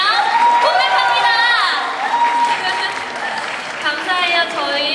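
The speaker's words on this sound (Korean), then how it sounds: "박수 소리가 너무 작은 거 아니에요?" Crowd clapping and cheering at a K-pop concert, with some shouts from young voices, lively and sustained, mixed with bright high-pitched calls.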